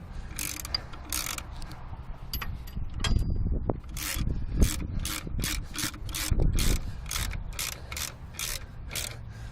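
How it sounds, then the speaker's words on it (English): Ratchet tightening the belt tensioner bolts on a 1997 Subaru's power steering and alternator belt: a close, steady run of sharp metallic clicks in quick rhythmic bursts, with a few pauses between strokes. "it's a matter of just tightening up those other two bolts"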